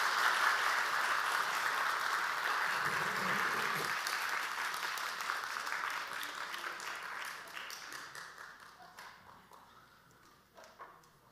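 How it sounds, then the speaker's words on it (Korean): Church congregation applauding together indoors, a dense round of clapping that gradually thins out and fades into scattered claps. "박수합시다."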